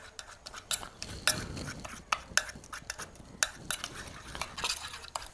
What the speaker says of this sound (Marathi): तर हे आपल्याला थोड्या वेळ असं फेटून घ्यायचे. 2-3 मिनटं फेटायचं ह्याला चांगलं.